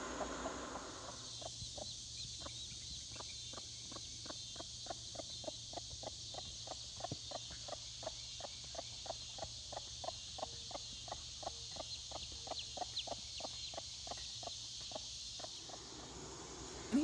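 Free-range chickens make a long run of regular, evenly spaced clucks, faint and steady against a quiet outdoor background with a low hum, the pulses rolling on for most of the stretch.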